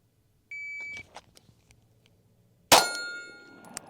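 Shot timer during an appendix carry draw drill gives a single steady electronic beep lasting about half a second, followed by faint rustling and then a sharp, loud gunshot crack that rings and decays, with no talking.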